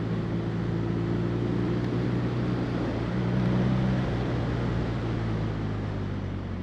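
A 2016 BMW R nineT motorcycle exhaust, a steady, low droning engine note with a broad rush of wind, continuous and fairly even throughout, with no talk.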